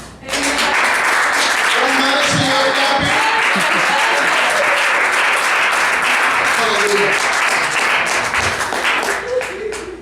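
A church congregation claps loudly during an evangelist's sermon, continuous dense applause filling the space, with voices and shouts mixed in throughout.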